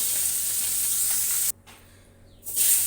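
Koi fish frying in oil in a pan, a loud, dense, continuous sizzle close up that drops out abruptly for about a second and then returns strongly.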